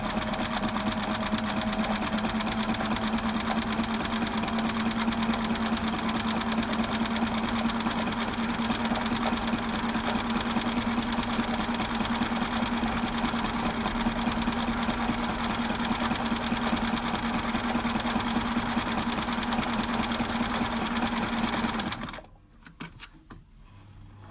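Sewing machine stitching coiled rope into a bowl, running in a steady, fast, continuous whir for about 22 seconds before stopping abruptly, leaving near silence.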